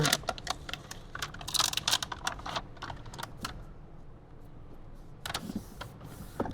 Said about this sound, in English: we'll kind of peel back some more of that paper